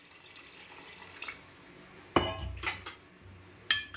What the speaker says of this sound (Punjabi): ਲਓ ਜੀ ਆਪਾਂ ਗਲਾਸ ਕ ਪਾਣੀ ਦਾ ਐਡ ਕਰ ਦਿੰਨੇ ਆ